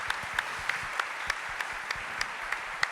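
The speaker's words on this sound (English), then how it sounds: "Everybody applaud those, because this would not have happened without George and his team" An audience claps for the Save Our Scene team at a music venues gathering, a short burst of dense applause with sharper individual claps spiking through, steady and moderately loud.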